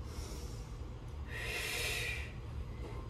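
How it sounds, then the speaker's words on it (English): A single breath is drawn in and pushed out, close and clear against a steady low room hum, during a barre class arm warm-up. "Taking a nice breath in and out"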